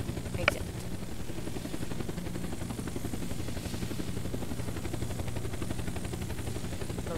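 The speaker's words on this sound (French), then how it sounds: "L'avion avance tout seul." An aircraft in the video game Unturned flies with a steady, pulsing engine drone throughout, moderately quiet, while a person talks over it.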